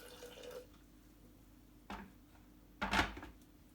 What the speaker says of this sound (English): I'm going to add a bit of water.